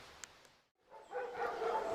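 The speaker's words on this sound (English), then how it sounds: "A lot of dogs." Several dogs barking near a walking route along the Camino de Santiago in Galicia, between Fonfría and Sarria, with a few short sharp barks early, then a denser burst of louder barking and yelping after a brief pause.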